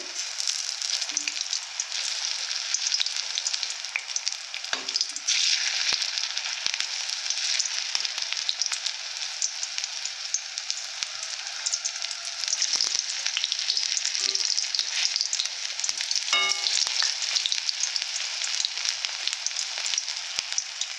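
Flower pakoras deep-fry in hot oil as one side finishes and they are gently turned. A steady, close crackling hiss carries on throughout, with a few faint clinks from the utensil.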